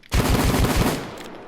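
A Taurus Judge shotgun revolver fires in Payday 2: four quick, heavy blasts close together, then a ringing tail fades away.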